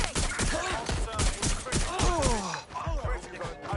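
PS5 game shootout: rapid, loud overlapping gunshots in quick succession, with voices shouting amid the shots.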